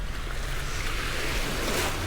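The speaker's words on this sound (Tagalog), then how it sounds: "maalon-alon na siya kasi paakyat na rin yung tubig" Sea waves wash steadily onto a shore where someone is fishing, with rising tide and wind blowing toward the water; a continuous close rush of surf with no voices.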